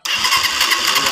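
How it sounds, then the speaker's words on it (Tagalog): A Suzuki TMX 125 Alpha motorcycle, under repair for recurring wiring burnouts, starts up suddenly and settles into a steady, close, loud mid-pitched engine run with a pulsing beat. "Ayan, umandar na yung motor ni boss."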